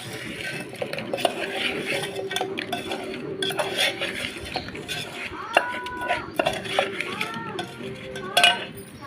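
Fried chicken being tossed with ground masala spice powder for chicken pachadi: busy clattering and scraping of a spoon against a metal bowl, with clinks and short bursts of nearby chatter.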